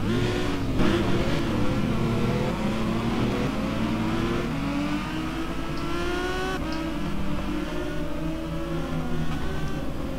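Renault Mégane race cars rumble off on a formation lap at the Okayama circuit, engines revving and rising in pitch as several cars pull away together, loud and close without talk.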